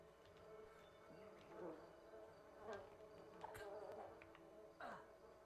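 A bee in the Lord of the Rings: Fellowship of the Ring game buzzes faintly close by, its drone rising and falling in several short swells over a quiet background.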